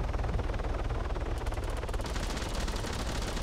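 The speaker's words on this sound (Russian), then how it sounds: "Стоп. Что ты по мне стреляешь?" Automatic gunfire in the ArmA military shooter game, a steady rapid burst of shots sustained throughout at close range with no talk over it.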